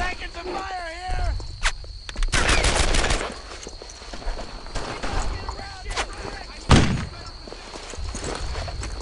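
Gunfire in a WWII shooter video game: scattered bursts and single shots, some near and loud, with a sharp thump around the middle, set over a constant ambient battlefield bed with shouted voices.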